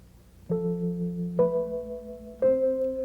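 Three low piano notes struck one after another, each ringing out and sustaining before the next, the last slightly higher.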